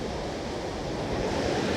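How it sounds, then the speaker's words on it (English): Surf rolls onto the beach at Playa Hermosa in Nicaragua, a steady broadband wash of breaking waves with some wind rumble and no pauses. "This beach is called Playa Hermosa. It's right here in Nicaragua."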